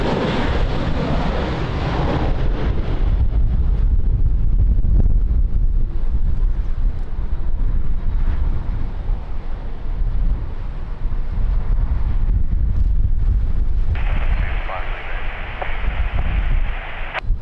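Strong gusting wind at Lisbon Airport roars loudly over the microphone, steady and buffeting for the whole stretch, with a brief lull before the gusts pick up again near the end.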